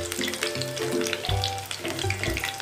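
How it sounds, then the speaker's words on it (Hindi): Paneer pakora fries in hot oil in a home kitchen, a steady close crackling sizzle with occasional bubbling pops and light stirring clatter, no voices. "इसको एक साइड से तीन मिनट तक तला है इसको और दूसरी साइड से से पलट कर तीन मिनट तक तलेंगे"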